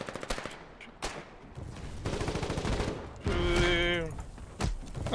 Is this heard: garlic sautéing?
no